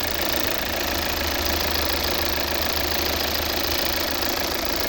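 The 2.0-litre D4 Euro 6 diesel engine of a 2014 Volvo V70 automatic idles steadily up close, its low knocking clatter and vibration continuous throughout with no voices.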